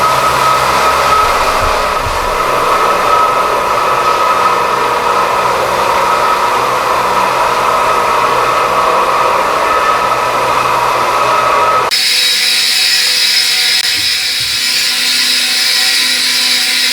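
A floor machine fitted with a Scotch-Brite pad scrubs a concrete garage floor, making a loud, steady, droning whir throughout, with an abrupt change in tone near the end.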